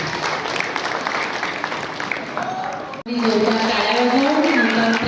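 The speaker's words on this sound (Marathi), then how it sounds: "So I request to you all give a big hand for our outgoing president Rotarian" Loud, dense audience applause at a Rotary Club installation ceremony honours the outgoing president, cutting off briefly before a voice speaks over continued clapping.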